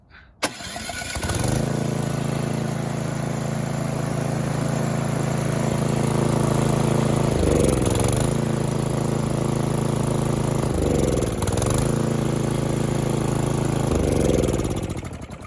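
A small snowthrower engine on full choke cranks steadily with its electric starter for a long stretch, a loud continuous whirring drone that dips and surges a few times without catching, close up and with no talking.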